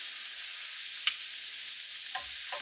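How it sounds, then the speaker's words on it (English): Garlic butter shrimp fry in a pan with a steady close sizzle and crackle, broken by a sharp utensil clack and a couple of soft scraping stirs as the shrimp are flipped. "I'm just going to go ahead and flip all the shrimp."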